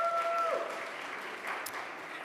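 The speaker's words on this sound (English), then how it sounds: "clap it up for the New York Liberty" Applause in a city council chamber at City Hall, a broad steady wash of clapping from a crowd that fades slightly, with a brief tone at the start.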